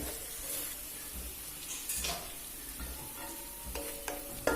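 Masala paste mixed in a pan for veg biriyani, a faint sizzle with occasional scraping strokes and a soft hiss, close but quiet and with no voices.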